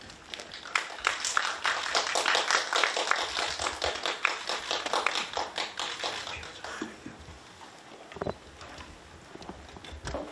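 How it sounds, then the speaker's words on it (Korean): An audience at a film press conference gives a burst of applause to welcome the guests. The dense, sustained clapping is moderately close and thins out toward the end. "큰 박수와 함께 환영 부탁드립니다."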